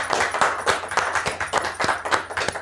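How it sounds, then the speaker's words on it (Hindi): Audience clapping at an MLM training event to welcome a guest onstage, a fairly steady patter of claps from a modest crowd with a brief faint voice underneath. "जोरदार तालियों के साथ आप स्वागत कीजिए"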